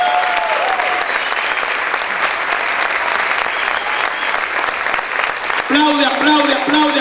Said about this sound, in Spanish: Aplaude, aplaude, aplaude, aplaude fuerte al Señor.